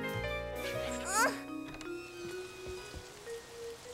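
Cartoon rain patters steadily as a soft, even hiss behind children's and adults' voices, with a faint tinkling texture through the scene.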